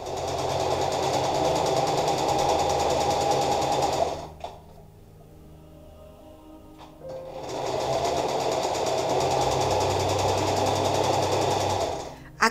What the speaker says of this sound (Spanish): Aquí ya tenemos cosido con la máquina